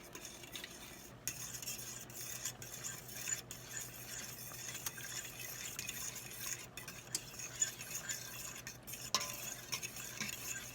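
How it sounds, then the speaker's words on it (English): A spoon stirs gravy in a cooking pot with soft, repeated scraping and clinking strokes against the metal, faint and close, under a low background hum and with no one talking. "We gotta stir this."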